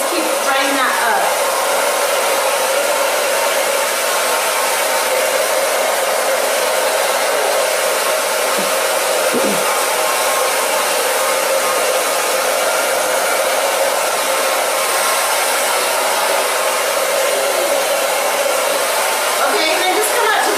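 A hair dryer blows continuously on hair for a stacked twist ponytail, a loud, steady close whir with slight shifts as it moves around the head.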